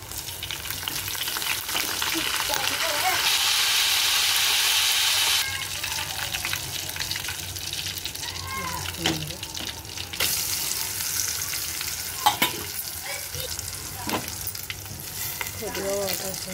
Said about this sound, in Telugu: కొద్దిగా వాటర్ వేసాను.